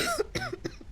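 An infected survivor coughs in the Quarantine Zone game: a quick run of three or four harsh, close coughs packed into a single second.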